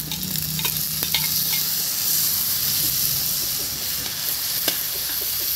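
Sliced bitter gourd (ampalaya) frying in a pan in an outdoor dirty kitchen produces a constant loud sizzle and hiss, with occasional scraping stir clicks and pops standing out above the steady frying.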